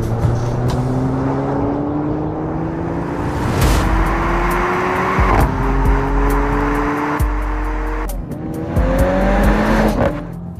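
A Mercedes-AMG CLA45 is driven hard around a race track, its engine loud and close as it climbs through the revs, with repeated upshifts, sharp pops and tire noise as it corners.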